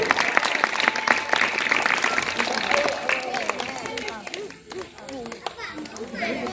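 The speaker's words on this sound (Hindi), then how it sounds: "आप लोग जोरदार ताली से स्वागत करेंगे" Hindi-speaking audience at a Sankalp Diwas gathering applauding as a guest garlands a portrait of Babasaheb, the clapping dense and steady, mixed with children's voices and chatter that run underneath throughout.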